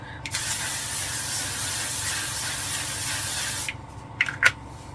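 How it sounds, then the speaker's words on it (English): A L'Oreal 3-second setting spray mists steadily for about three seconds, a close, continuous hiss, followed by a few small clicks and taps as the bottle is handled. "I'm gonna use this L'Oreal setting spray, 3 second setting mist."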